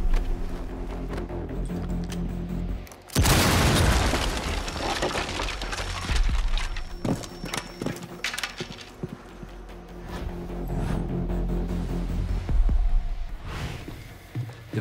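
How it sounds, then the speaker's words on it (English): A breach charge blows open a trapdoor in the Rainbow Six Siege video game with a sudden loud blast, followed by crackling debris and rumbling game ambience. "By detonating a breach charge on the trapdoor, you can create a passageway to the floor below"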